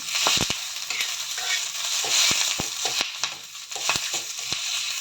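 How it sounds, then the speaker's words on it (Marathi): Whole green chillies roasting in a pan for a tomato thecha, a crackling sizzle broken by repeated sharp taps and scrapes of a spoon pressing them, no voices. "मस्त असा त्याचा आवाज येईपर्यंत भाजून घ्यायच्या"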